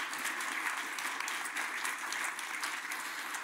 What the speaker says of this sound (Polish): Bardzo serdecznie dziękuję państwu i proszę o brawa.